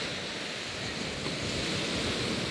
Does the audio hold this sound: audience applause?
no